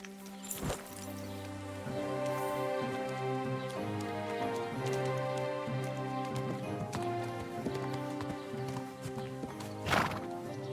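Horse hooves clip-clopping on a road in the medieval video game Kingdom Come Deliverance 2, a steady close rhythmic trot with a neigh near the start and another near the end, heard alone without talk.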